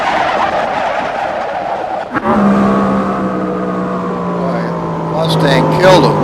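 A drag-racing car's engine roars loud and close, dropping briefly at a shift before a steady rising drone carries on with a voice talking over it.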